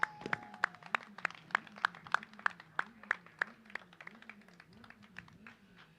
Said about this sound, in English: Ladies and gentlemen, a round of applause once again for the Honda Thailand Talent Cup race winners